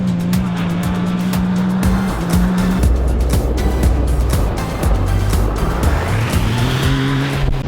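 A Yamaha YXZ 1000R buggy with a 125-horsepower 3-cylinder 1-litre engine drives hard, its engine note rising and falling through gear changes with tyre squeal and gravel noise, loud and close throughout.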